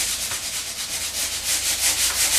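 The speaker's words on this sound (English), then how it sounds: "so now I'm going to sand that" Sanding a drywall quickset patch by hand, a steady close scratchy rubbing with rhythmic back-and-forth strokes that grow slightly louder toward the end, no talking.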